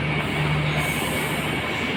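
A KRL Commuter Line electric train on the Yogyakarta–Solo route runs with a steady, loud, broadband rumble and hiss, heard continuously from on board without pauses.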